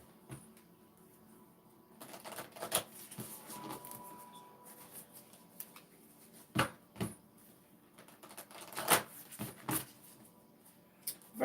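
Soft riffling and clicking of tarot cards being shuffled, in scattered bursts with pauses, close and fairly quiet.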